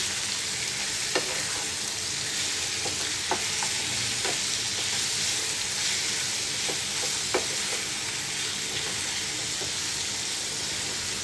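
Onions sautéing in a pan for chicken coconut gravy, a continuous soft sizzle broken by occasional spatula clicks and scrapes, no voices.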